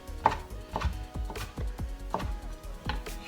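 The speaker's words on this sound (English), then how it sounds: "we're just going to kind of slice these into nice thin strips, which will then turn and cut into squares" A knife slices a tomato into thin strips on a cutting board for mango salsa, giving about seven crisp, close cuts at an uneven pace with no voices.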